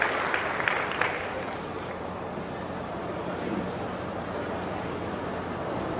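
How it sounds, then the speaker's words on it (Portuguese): An audience applauds a speaker onto a climate-change panel in Brazil, a dense, steady wash of clapping at moderate distance that carries on evenly without letting up. "Vamos receber com a salva de palmas Carlos Nobre, por favor."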